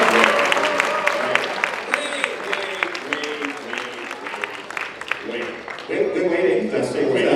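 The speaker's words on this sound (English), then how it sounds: "Give yourselves a round of applause." An audience applauds at a convention charity auction (EFNW 2022), with scattered claps and cheers rising and falling under an announcer's amplified voice, building louder toward the end.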